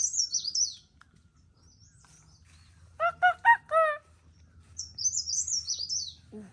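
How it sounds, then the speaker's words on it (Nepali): A cuckoo (kafal pakyo bird) calls in a rural Nepali village, with clear chirping phrases at the start and end and a brief run of louder, rising notes in the middle against a quiet background. "अर्को हुन्छ अझै काफल पाक्यो भन्ने चरा"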